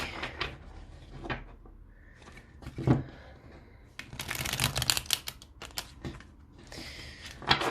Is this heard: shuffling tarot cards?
yes